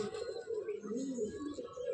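Pigeons in a Madrasi pigeon loft coo in a low, continuous rolling murmur, close and steady, with faint higher chirps above.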